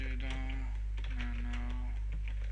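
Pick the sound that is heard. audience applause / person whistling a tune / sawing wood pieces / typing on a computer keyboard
typing on a computer keyboard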